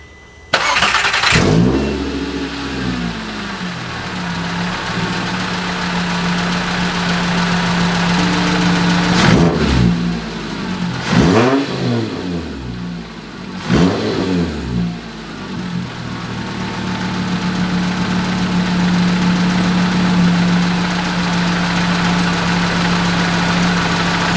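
A Volkswagen 2.5 engine fitted with a new serpentine belt tensioner starts up close by and settles into a steady idle, with a few quick revs partway through.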